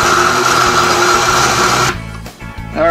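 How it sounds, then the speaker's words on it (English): A blender grinds pecans with a loud, steady mechanical whir and motor drone, then the pitch drops and sputters as the load shifts before revving up again near the end. "So all I'm gonna do is just put this in the blender and grind this up."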